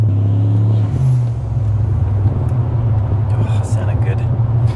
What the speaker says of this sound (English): Gotta love that turbo.